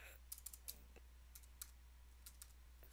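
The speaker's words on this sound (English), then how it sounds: "And again, I'm just typing." Fingers type on a computer keyboard, a faint, quiet scatter of sharp individual key clicks coming in irregular bursts over a low steady hum.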